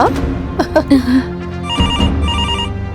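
A telephone rings loudly and close, with a repeating electronic bell tone in a home scene, and a voice talks over the start before the ringing continues alone.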